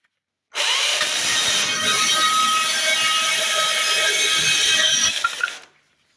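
STIHL MSA battery chainsaw cutting through a thicker piece of wood, one continuous loud whining cut of about five seconds that starts abruptly and winds down at the end, close and alone.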